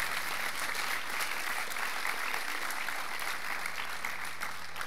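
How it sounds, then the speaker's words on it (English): A dense, steady wash of audience applause fills the whole stretch, many hands clapping at once at an even loudness with no voices standing out. "a round of applause for her."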